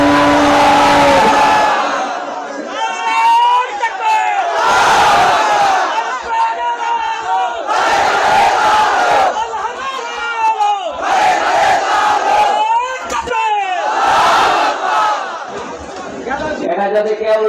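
A large crowd roars a repeated chant in loud, rhythmic bursts of massed voices, answering a takbir call at an open-air religious gathering in Raipur, Bagharpara, Jessore, with brief pauses between each surge.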